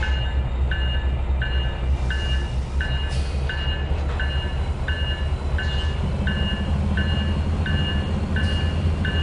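Tram rolling steadily along track in Trainz 2022, with a continuous low rumble and regular clicking beats of wheels over rail joints, mid-distance and alone.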